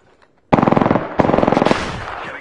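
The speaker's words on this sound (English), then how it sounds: "Getting shot at." Rapid automatic gunfire in Apex Legends: two loud, close bursts of evenly spaced shots, the first after a brief quiet start, the second running on with a denser, rattling spread of rounds.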